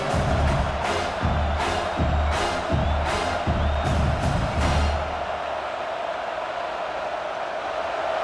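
A stadium crowd in EA Sports College Football 26 roaring for the defense on a big third down in the red zone, with a steady loud crowd wash and rhythmic thumping chants or stomps in the first half.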